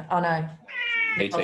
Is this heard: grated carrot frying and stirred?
no